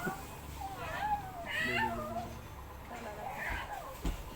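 A cat meows several times up close, drawn-out wavering cries repeated over a few seconds amid quiet indoor background.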